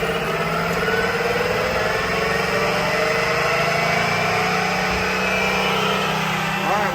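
A marine engine with a Velvet Drive 5000 Liberty Series transmission runs loud and close, holding a steady droning rev without pause.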